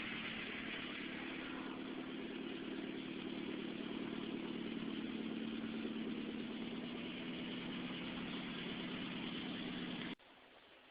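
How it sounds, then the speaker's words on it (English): A Mitsubishi Evolution X with its muffler removed idles steadily for about ten seconds, giving a loud, even rumble with no talk, before the sound cuts off abruptly. "So this is the car at idle."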